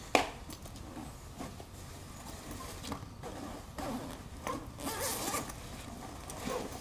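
A backpack zipper being pulled open, a quiet scratchy zipping run with a few small clicks and rustles up close, no talking.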